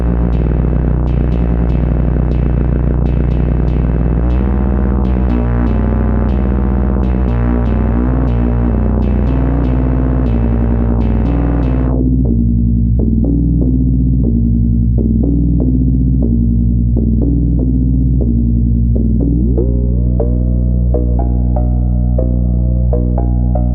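Livewire Dalek Modulator synthesizer module playing a sequence, a buzzy, harmonically rich tone stepping through a few pitches in a steady rhythm, later turning darker and more muffled with gliding pitch, loud and continuous.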